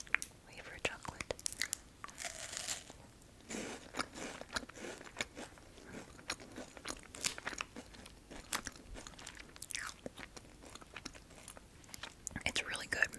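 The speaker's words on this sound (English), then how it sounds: "it is very similar to a Kit Kat. It's a wafer chocolate." Someone bites into and chews a Thai chocolate wafer snack right at the microphone, giving crisp crunches and crackles that soften into quieter chewing, with soft speech in places.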